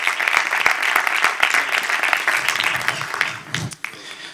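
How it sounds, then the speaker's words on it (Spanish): Church congregation applauding after a sermon line, sustained dense clapping that fills the room and tapers off near the end, with no talk over it. "Dale aplauso al Señor."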